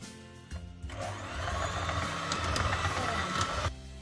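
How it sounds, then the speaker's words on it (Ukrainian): An electric mixer whips cream steadily for a few seconds, its motor droning under a grainy, churning whipping noise, starting and stopping abruptly. "По одній-дві ложки додаємо до нашої вершкової маси і потихеньку збиваємо, поєднуємо."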